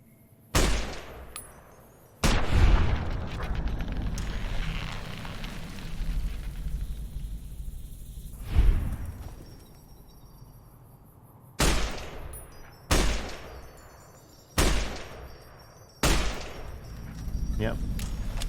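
Gunfire from Fallout: New Vegas: sharp, loud shots ring out singly and in short pairs with gaps between, each leaving a brief decaying tail over a low ambient game background, with faint speech traces.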